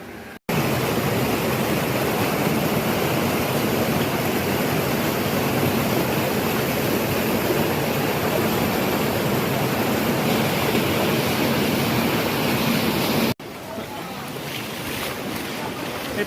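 A river rushes steadily near the Vashistha temple, a loud broadband wash that stays constant for over ten seconds before dropping a little at the end.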